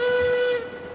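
A steam locomotive whistle in the train game Railroads Online sounds as one short, steady, loud tonal blast of about half a second that then fades.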